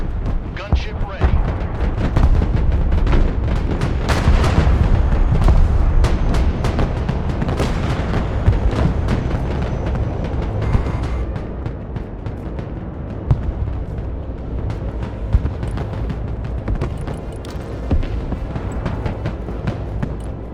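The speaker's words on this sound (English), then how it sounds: "AC gunship waiting target. Order ready to fire." An AC gunship fires steadily in the Broken Arrow video game, a continuous stream of deep, rumbling cannon booms and heavy shots that runs loud throughout, with a voice speaking over the barrage.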